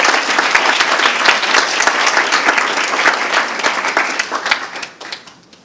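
An audience at a speech contest gives the contestants a loud round of applause, dense clapping that holds strong and then thins into scattered final claps before fading out.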